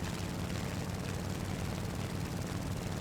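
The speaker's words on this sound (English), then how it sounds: "I hear another propeller near me and I can't find it" Piston propeller aircraft engine in War Thunder, with a Mitsubishi A6M2 fighter nearby: a steady, droning low roar holding at even loudness throughout, with no talk.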